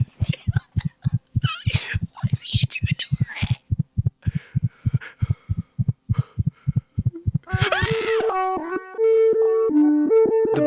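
Heartbeat sound effect from an analog horror video: a steady, loud double-thump pulse repeating for about seven seconds, followed by droning synth tones and eerie effects.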